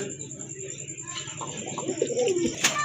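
Pigeons, black Bombay birds among a collection for sale, coo softly nearby over a constant background hum, with a brief sharper sound near the end.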